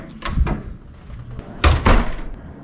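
Hotel room door at Bally's Las Vegas handled in two bursts, each a pair of close, solid thumps and latch clunks separated by a quieter pause.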